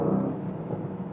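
Exhaust of a performance SUV as the driver lifts off the throttle, a brief, dense low rumbling burble that stays steady and fairly loud throughout.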